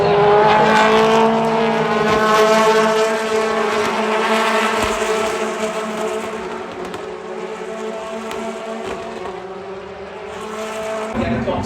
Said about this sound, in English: Osborne leading down onto Rutland for the first time in the race with Durban in second